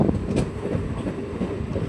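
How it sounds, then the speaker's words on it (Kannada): A MEMU passenger train running slowly on the rails between Bengaluru and Kolar, heard as a steady low rumble with soft wheel clatter, recorded from on board with no talking. "ಅದರಿಂದ ಟ್ರೈನ್ ತುಂಬ ಸ್ಲೋ ಆಗಿ ಅವಾಗಿಂದ ತುಂಬ ಸ್ಲೋ ಆಗಿ ಹೋಗ್ತಾರೆ ನಮ್ಮ ಟ್ರೈನ್"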